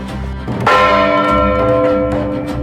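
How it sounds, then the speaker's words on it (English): Church bells ring out loud and close, a dense overlapping peal of struck tones with a long ringing sustain that swells after a soft start and carries steadily to the end. "New bells echoed across old valleys."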